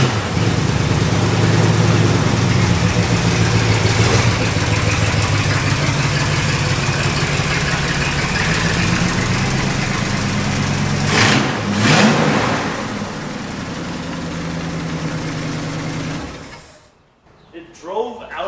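An abandoned Mopar car engine, run again after more than 20 years, idles loud and close with a steady low rumble, a couple of brief revs near the end, then cuts out abruptly; speech is faintly mixed in.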